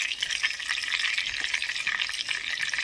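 Oil heats and sizzles in a wok previously used for frying fish, ahead of cooking prawn malai curry; a steady, fairly loud bright hiss runs throughout with a few small crackles.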